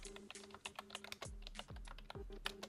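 Rapid keystrokes on a computer keyboard as a prompt is typed, an irregular run of close, crisp clicks with a few heavier thumps, alone without talk.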